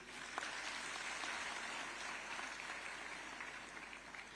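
Applause from an audience in Lucknow as appointment letters are handed to newly appointed technical assistants at a state government ceremony, a steady, faint wash of clapping with no talk over it.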